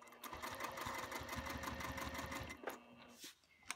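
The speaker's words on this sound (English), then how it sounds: "Sew across, and then I rotate again." A sewing machine stitching cork fabric runs in a fast, steady mechanical chatter of needle strokes for a few seconds, then stops with a couple of soft clicks and thumps.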